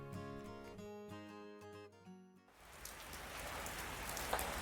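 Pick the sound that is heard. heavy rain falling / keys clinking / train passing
heavy rain falling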